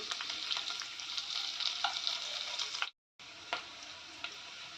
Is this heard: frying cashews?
yes